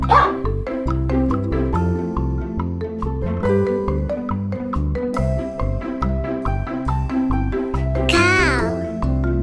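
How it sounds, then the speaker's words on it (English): A dog barks and yips in a string of short, close calls over loud, continuous music with a child-like voice, ending with a quick whimpering squeal. "Dog."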